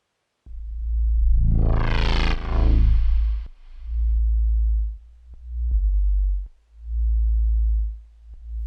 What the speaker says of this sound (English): The sub was made using wavetable